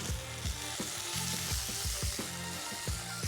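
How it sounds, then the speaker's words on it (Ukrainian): Steady sizzling of chicken and peppers frying in a hot pan, with repeated scraping thumps of stirring at a loose, regular pace. "кладемо курочку на нашу сковорідку. І одразу, одразу до неї, щоб вже насичувати її пахощами, пішов перчик."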